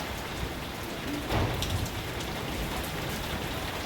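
Heavy rain pours down over a house, a loud, constant broadband wash of drops with a brief louder swell midway and no speech over it.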